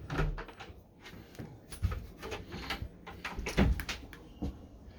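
A cupboard door opening inside a Miller M Liner One integrated motorhome, giving a few light clicks and knocks of the latch and hinge close by, with faint rustling around them.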